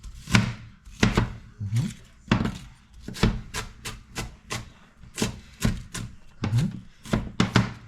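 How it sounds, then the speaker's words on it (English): A knife chops food into small pieces on a board with about twenty sharp, close strikes. They come in an uneven rhythm, some single and some in quick pairs, with quiet gaps between and no speech. "Just cut it into small pieces."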